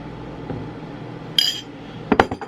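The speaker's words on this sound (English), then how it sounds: "just chopping it up." Kitchen clatter while meat is chopped for breakfast burritos: a soft knock, then a sharp metallic clink, and a few quick clattering knocks near the end, close and fairly quiet.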